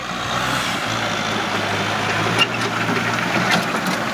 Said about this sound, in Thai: คูปต้า M6240 ครับใหม่ๆเลยนะครับ เสียงยังแน่นอยู่เลย